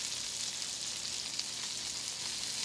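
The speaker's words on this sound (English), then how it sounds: "We're going to put a little cooking wine with them. Deglaze the pan." Garlic shrimp in a hot pan sizzle steadily as cooking wine is splashed in to deglaze, a soft continuous hiss with faint crackles and no voices.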